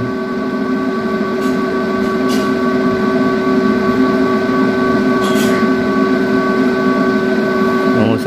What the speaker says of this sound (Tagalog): So gumagana na yung fan niya guys, napakalakas ng fan niya